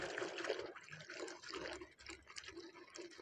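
Hand swirling washing powder through water in a container, making continuous faint sloshing and dribbling liquid sounds close by, with no talk.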